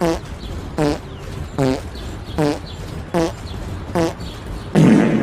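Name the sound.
farting the melody of Mary Had a Little Lamb, Family Guy video game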